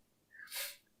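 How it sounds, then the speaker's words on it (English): A single quick, soft sneeze, faint and close, with a short breathy burst and no talk around it. "Little sneeze there."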